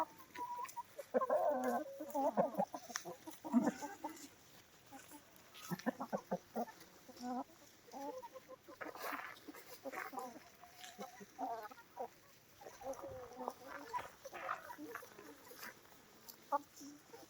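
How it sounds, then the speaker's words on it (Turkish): Several village chickens cluck and squawk intermittently at a moderate distance, with occasional sharper calls from a young rooster among the flock. "Köy tavuğu. Yarkamız. Genç horozumuz orada."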